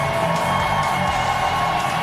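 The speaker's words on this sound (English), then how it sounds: "How about a big round of applause for these athletes?" An audience at an archery qualifying event at the Warrior Games cheers and whoops for the athletes, a broad, distant crowd roar holding steady and fairly faint across the moment.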